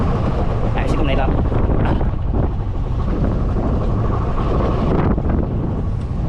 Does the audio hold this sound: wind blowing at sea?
yes